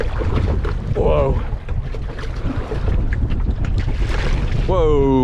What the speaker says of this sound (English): Whoa, bunch of water just splashed in on me.